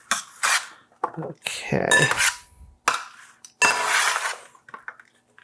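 Hot roasted green beans scraped and tipped from a metal roasting pan into a bowl, with repeated clattering of utensil on pan in irregular bursts and a brief spoken word mixed in.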